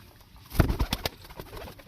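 A tournament pigeon coos in a short cluster of soft, throaty bursts close by, with a few quieter murmurs trailing off against light background noise.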